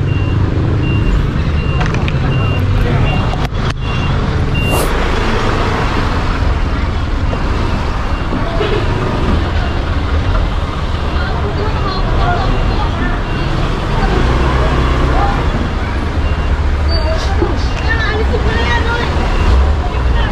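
A tow truck at a roadside in the Philippines, its reversing beeps repeating over heavy traffic rumble and street chatter while an illegally parked car is readied for towing, loud and close.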